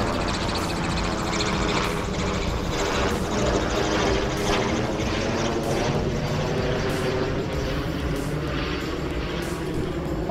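A loud, steady roar of a low-flying aircraft passing overhead, droning continuously throughout without letting up.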